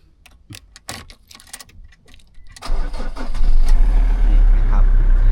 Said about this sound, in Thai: เดี๋ยวสตาร์ทฟังเสียงเครื่องยนต์กันนะครับ